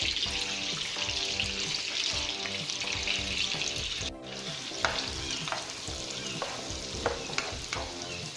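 Onion sizzles and fries in butter for carbonara, a dense steady crackle with the scrape and clatter of stirring, close and fairly loud.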